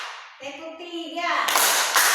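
In a classroom clapping game, children's sing-song voices give way to a loud burst of group hand clapping in the final stretch.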